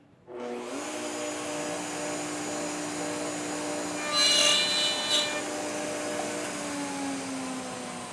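A high-speed router spinning a small bit near 22,000 rpm makes a short bump cut into wood for a sliding dovetail slot: a steady whining hum with a sharper cutting burst midway, close and loud, no talking.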